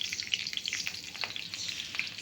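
Asafoetida and three or four green chillies fry in hot oil in a pan, giving a continuous bright crackling sizzle with small pops throughout and no voices.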